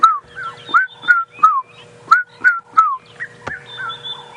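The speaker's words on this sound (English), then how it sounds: "Can hear a red-chested cuckoo calling" Repeated rising whistled notes, about eight in an even series, clear and fairly close, from a bird answering to a red-chested cuckoo call on a sunset safari drive in the African bush. Soft background hum runs beneath, with no talk.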